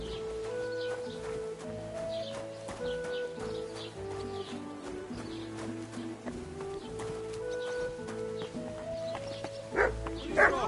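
A dog in Kingdom Come: Deliverance 2 barks amid a medieval game scene, the barks set against steady background music with horse hooves and birds, a few sharper yips near the end.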